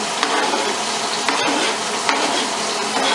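Onions sizzle loudly in a sauce pan while a utensil stirs and scrapes through them, giving a steady, close frying hiss broken by a few sharp clinks against the pan.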